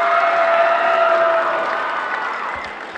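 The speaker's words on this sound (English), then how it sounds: "Round of applause for the Christmas tree lights." Applause from the audience at a high school holiday assembly, a steady wash of clapping that fades slightly toward the end.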